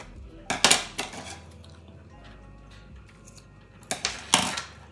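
Two bursts of snipping and clattering from cutting macramé cord after a double knot, with a quiet, near-silent pause between them.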